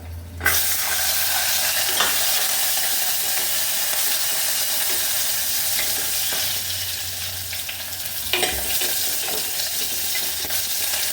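Small onions (shallots) sauté in hot oil after dried red chillies, giving a dense, steady sizzle with occasional spatula stirs and scrapes, close and continuous, with no one speaking.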